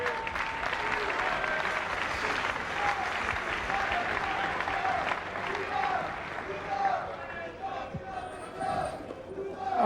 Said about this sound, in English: they'll give you polite applause one more time at the end of the round